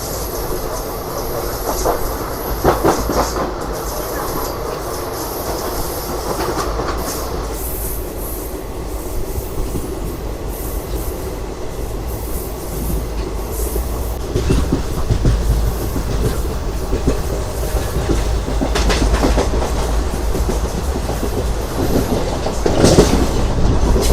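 A Repalle–Charlapalli passenger train rumbles past at close range with steady clattering wheels and occasional squeals of metal on rail, loud and continuous throughout.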